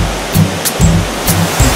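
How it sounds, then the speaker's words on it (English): A waterfall in Gawahon Ecology Park, Negros Occidental, gives a close, loud, continuous rushing roar with short surges in the falling water. "Here we have one of the seven beautiful waterfalls in Gawahon Ecology Park"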